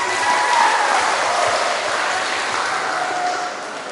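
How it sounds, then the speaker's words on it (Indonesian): An audience claps together in sustained applause at an Isra Miraj children's religious event, a dense even patter that holds steady for several seconds and then fades slightly at the end. "Boleh tepuk tangan untuk Kak Taufik dong."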